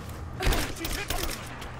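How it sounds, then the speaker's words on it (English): Dense video game gunfire of a firefight with suppressing fire crackles steadily at close range, a sharp thump standing out amid the busy continuous shooting. "Give me suppressing fire now"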